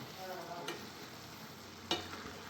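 Sugar being stirred into carrot halwa in a pan, a steady soft scraping and sizzling hiss with two brief louder clinks of the spoon, fairly quiet and without talk.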